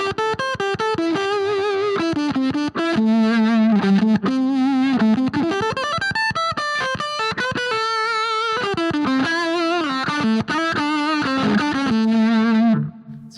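An electric guitar played through a fuzz distortion pedal, heard on one side only, rings out in thick, saturated sustained notes and bends with a gritty, harmonically rich buzz, then cuts off.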